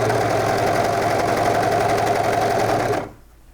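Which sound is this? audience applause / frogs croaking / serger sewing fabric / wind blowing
serger sewing fabric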